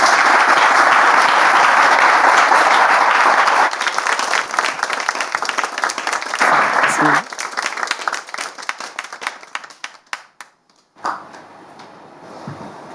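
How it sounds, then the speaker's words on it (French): A studio audience at a French-language talk show applauds to welcome a guest, with dense, loud clapping that thins into scattered claps and fades as a voice begins speaking. "On peut l'accueillir avec des applaudissements, s'il vous plaît."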